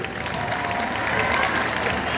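Festival crowd applauding municipal staff at an outdoor culture and arts festival, a steady wash of clapping at moderate distance with voices mixed in underneath.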